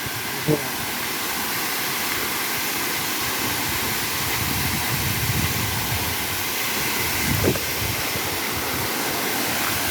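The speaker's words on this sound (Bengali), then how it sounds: "পানি এত পরিমাণ শব্দ হয়তো কথা শোনা যাবে না" Hajrachhara waterfall near Sajek in Baghaichhari roars as a steady broadband rush of falling water, loud and continuous throughout, with no talk over it.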